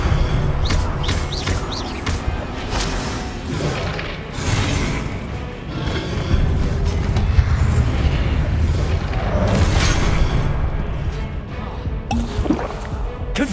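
Repeated Confringo fire-spell blasts in the Hogwarts Legacy video game, dense booming explosions and crashing impacts rolling continuously at close range with loud low rumble throughout.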